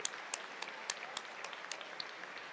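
Scattered clapping from a small group, quiet and somewhat distant, with sharp individual claps standing out over a soft continuous patter.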